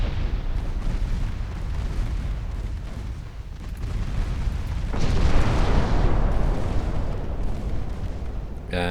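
A light cruiser's 3-inch guns firing in a naval battle video game, a continuous roar of booming gunfire and explosions that swells in a dense burst about halfway through.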